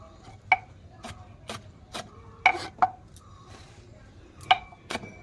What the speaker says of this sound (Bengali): এই দেখো আমি লঙ্কা কাটছি